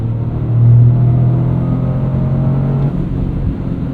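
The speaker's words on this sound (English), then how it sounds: "giving us nice boost with that turbocharged 3-cylinder" A 2023 Toyota GR Corolla's turbocharged three-cylinder engine drones steadily with a low throaty hum, swelling briefly as it accelerates under boost, heard from inside the cabin.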